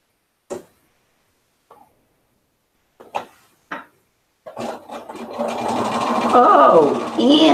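A sewing machine webbing quilt pieces together: a few sharp clicks and taps of handling fabric, then a steady, close-up mechanical whirr of stitching that builds and continues to the end.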